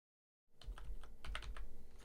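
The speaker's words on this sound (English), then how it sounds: "I'm having the worst time typing today." Fingers clatter on a computer keyboard while coding, a quick, uneven run of close keystrokes starting after a short silence and continuing without pause to the end.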